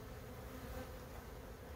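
A dense, steady buzz of many honeybees fills the air around an open, healthy hive, close and continuous with no talking.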